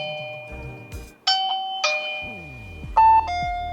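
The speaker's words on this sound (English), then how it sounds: "let's test out the 3 different chime sounds that you can switch your doorbell to." An Aosu video doorbell plays its default chime: a short series of bright electronic ding-dong tones ringing out clearly in a quiet room, each note decaying before the next.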